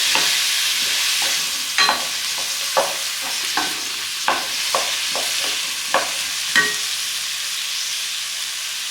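Cauliflower fries in a pan, a continuous close sizzle broken by regular scraping clinks as a spoon stirs the florets, roughly one stroke every half second or so.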